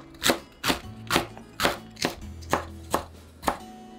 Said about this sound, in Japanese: キャベツは水洗いして粗い千切りにします